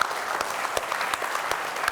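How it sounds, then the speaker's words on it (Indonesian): A crowd at a 2009 Indonesian presidential candidate dialogue claps steadily, a dense wash of applause with a few sharper claps standing out, sustained throughout. "Tepuk tangan dulu."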